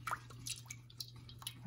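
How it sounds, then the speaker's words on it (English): A sauce simmers in a pan on a stovetop burner, giving soft irregular drips and wet bubbling pops over a steady low hum, close and quiet with no talking. "I'm going to let it simmer."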